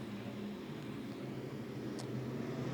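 Sprint cars in a pro sprintcar feature race roar steadily down the main straight, heard from a distance as a faint, continuous engine drone with no breaks.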